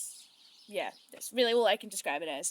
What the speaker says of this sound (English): Please ignore the birds, they're very loud this evening